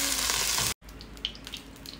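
Vegetables and garlic frying in a pan, a bright, dense sizzle that cuts out abruptly for a moment, then returns quieter with soft crackles and a few light clinks.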